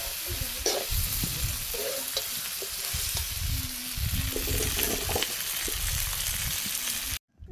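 A meat curry sizzles loudly in a pan as gravy is poured in. Liquid splashes and a spoon stirs with scraping knocks, and the sound cuts out abruptly at the end.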